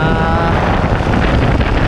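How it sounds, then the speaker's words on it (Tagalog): Loud, steady wind roaring and buffeting a nearby microphone, a continuous rumble with no break. "Kasi sobrang lakas ng hangin"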